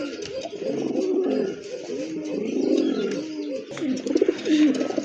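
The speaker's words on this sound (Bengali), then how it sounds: "আরেক জোড়া কবুতর আফসান গ্রিজেল মাশাআল্লাহ খুবই সুন্দর।" Afsan grizzle and Tiger grizzle pigeons coo close by, a steady run of soft, throaty rolling calls that overlap and repeat with short pauses.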